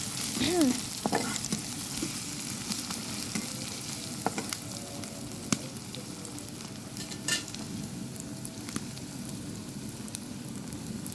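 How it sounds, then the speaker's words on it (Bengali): Rohu fish with onion cooks in a pan as a curry, sizzling and bubbling steadily up close, with occasional stirring scrapes and clinks and no talking. "পেঁয়াজ দিয়ে রুই মাছ দিয়ে দুইটা রান্না হইতেছে"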